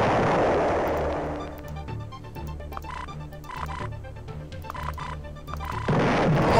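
Nuclear explosions in the video game Uplink, a deep rumbling boom that swells loudly, eases into a lower rolling drone with faint crackles, then surges again at the end.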